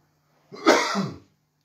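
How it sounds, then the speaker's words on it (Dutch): A single close, harsh cough, short and loud, in otherwise quiet surroundings. "daar komt hij weer, die hoest"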